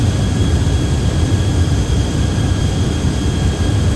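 Boeing 737NG jet engines at climb thrust in the Prepar3D flight simulator, a steady loud roar with a faint whine above it, continuous and alone.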